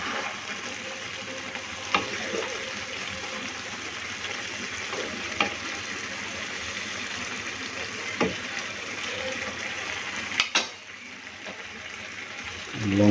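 Pilaf frying in a pan is stirred, giving a steady close sizzle with a few sharp scraping knocks at irregular intervals.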